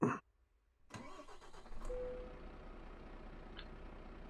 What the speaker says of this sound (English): Hang on, I've got to start the engine up.